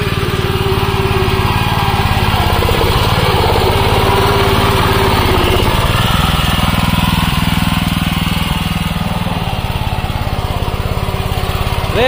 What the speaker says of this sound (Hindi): तो आज भाइयों इसकी जुताई कर रहे फिर से पावर वीडर के द्वारा।